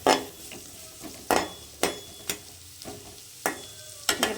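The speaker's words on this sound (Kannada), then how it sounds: "ಇವಾಗ ನಾನು ಈರುಳ್ಳಿ ಫ್ರೈ ಆಗ್ತಿರೋದಕ್ಕೆ ಟೊಮೊಟೊ ಹಾಕ್ತೀನಿ." Onion and tomato fry in a pan while a metal spoon stirs and scrapes, sharp clanks landing every half second or so over a soft background sizzle, close and fairly loud.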